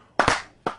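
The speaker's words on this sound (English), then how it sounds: "She gets the slow clap." A few slow, deliberate hand claps ring out one by one, close and sharp, with long gaps between them and no talking over them.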